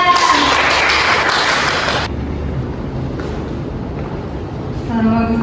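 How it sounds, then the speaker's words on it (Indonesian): An audience at a public relations class practice session breaks into dense applause for about two seconds, which then cuts off abruptly and leaves quieter room noise. "Kita beri tepuk tangan dulu untuk Kak Zila."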